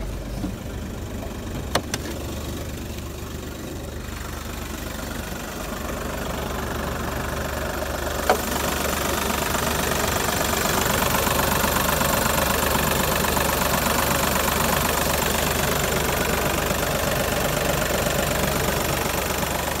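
A 2004 VW Polo TDi diesel hatchback with 150,000 miles catches and settles into a steady idle, a continuous engine drone that swells slightly after the start and holds evenly to the end, heard up close with no talking.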